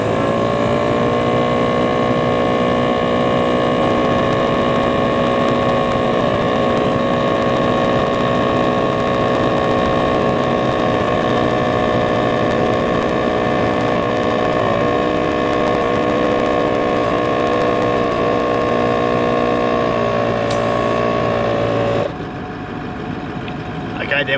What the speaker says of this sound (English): Single compressor, 10 psi to 40 psi.